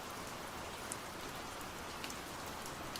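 Steady, soft rain ambience playing as background on a game livestream, a continuous even hiss of rainfall with occasional brief drop-like ticks and no voices.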